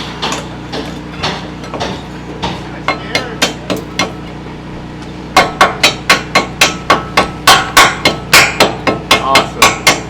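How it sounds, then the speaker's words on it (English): A hammer beating slag off a metal plate during house work: a steady series of sharp metallic strikes, spaced at first, then faster and louder in a regular rhythm, close by. "You might have to beat some slag out of it."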